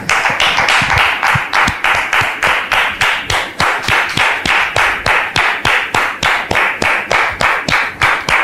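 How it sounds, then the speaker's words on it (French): A studio audience on a French-language talk show claps in a fast, even rhythm to welcome a guest, a steady run of sharp, close claps with no speech over them. "Merci, public, de la recevoir sous vos applaudissements."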